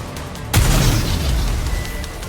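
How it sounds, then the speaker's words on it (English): A homemade explosive detonates in the video game NIKKE: Goddess of Victory, a sudden loud boom after a half-second lull, followed by a rumbling, crackling tail and background game ambience. "What are those? Explosives? They appear to be homemade. The explosions aren't stable. Here comes another one."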